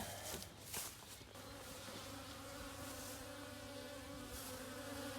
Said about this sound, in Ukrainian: Сім'я облітується. Це тут бакфаст.